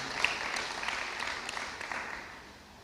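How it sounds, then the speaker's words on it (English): Audience at a scholars' anniversary event applauds in a large room with steady, moderate clapping and a few sharper claps standing out, tapering off slightly. "Just want to give everybody a round of applause."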